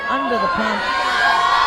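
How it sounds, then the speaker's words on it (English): Rugby crowd at a women's Asia Rugby Championship match between Hong Kong and Kazakhstan, cheering and whooping in a steady noisy swell while a commentator talks over it. "Some really big cheers here going."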